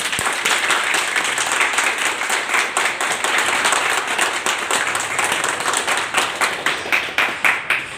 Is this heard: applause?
yes